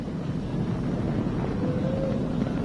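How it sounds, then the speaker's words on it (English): A SpaceX Falcon 9 rocket climbs away carrying a crewed Dragon capsule on a NASA astronaut launch, heard as a steady, wind-buffeted low roar that stays loud and even throughout. "Flying crew on board Dragon and Falcon 9, and look at them go."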